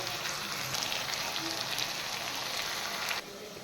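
Pumpkin leaves sizzle lightly in a hot pan with a bright, steady crackling hiss that drops in level just before the end.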